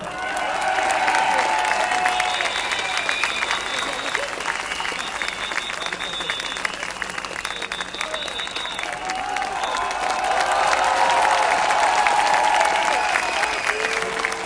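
Crowd applauding outdoors at an anti-vaccine-mandate protest in Paris, steady sustained clapping from a large gathering with some cheering, swelling louder toward the end.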